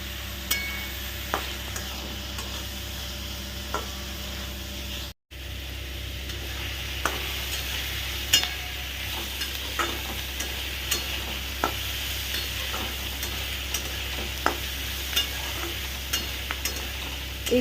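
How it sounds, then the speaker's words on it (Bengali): Boiled carrots fry and sizzle steadily in a pan, with a soft continuous hiss and occasional sharp clicks of stirring, with no voices. "আমি এটা ভাজছি আমার বেশিক্ষণ লাগবে না"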